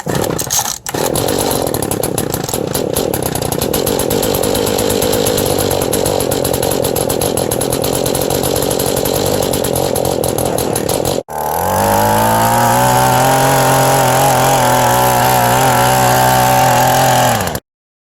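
A small two-stroke engine on a Mantis cultivator tiller salvaged from a scrap pile fires up and runs loud and close with a raspy buzz, cuts out briefly, then revs back up to a high steady whine before stopping.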